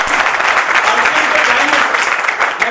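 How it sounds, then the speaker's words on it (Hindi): Loud, dense applause from an event audience, a continuous wash of clapping that holds steady for a few seconds without voices on top. "एक बार जोरदार तालियां चलाएं।"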